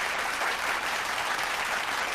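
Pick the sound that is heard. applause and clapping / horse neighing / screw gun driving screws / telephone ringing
applause and clapping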